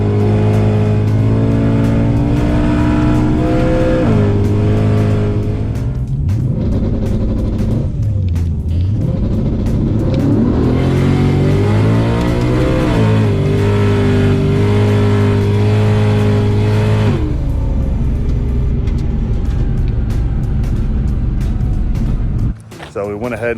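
A turbocharged race car engine with a TH400 transmission swap, revving hard and loud up close, its pitch climbing and then sagging repeatedly as the boost surges, then dropping away at the end.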